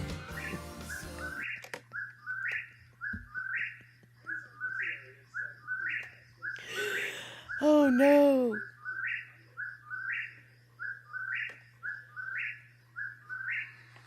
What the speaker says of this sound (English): That is the call of the whippoorwill, a very rare bird.